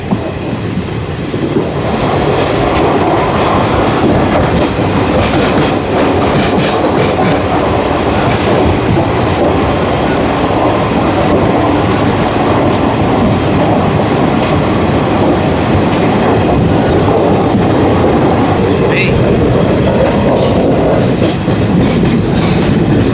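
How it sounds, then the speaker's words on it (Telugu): A Visakhapatnam–Araku passenger train rolls through short tunnels near the Borra Caves, its wheels on the track making a loud, steady rumble with a rhythmic clickety-clack and occasional metallic squeal, heard from close by inside the coach. "టన్నెల్స్లో నేను ఎక్కువ మాట్లాడను, మీరు ట్రాక్ సౌండ్ వినండి అంతే"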